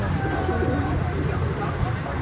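Pigeons in heat, including Bagha grizzle birds, coo softly in a low, continuous murmur set against a steady background hum.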